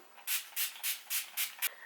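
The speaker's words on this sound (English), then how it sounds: "So I'm just going to finish off with my NYX setting spray." Six short, crisp hissing bursts spaced at a steady rhythm, close by, like a spray bottle being pumped repeatedly.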